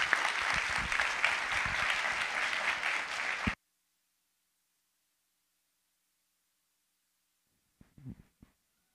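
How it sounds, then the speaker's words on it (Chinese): A wedding audience applauds to welcome Dr. Chen, a pastor and physician, with steady, dense clapping for about three and a half seconds. It then stops abruptly, leaving silence before a brief murmur near the end. "我们这时候一起掌声欢迎"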